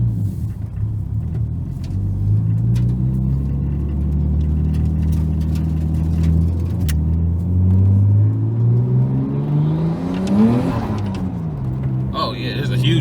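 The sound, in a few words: Nissan R33 Skyline car driving with upgraded intercooler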